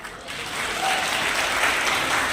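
Sustained audience applause at a poetry recital during a National Voters' Day celebration, a dense, steady clapping that swells slightly and holds loud throughout.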